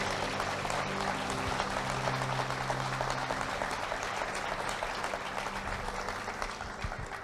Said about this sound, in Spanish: Vamos a darle un aplauso al Señor Jesús.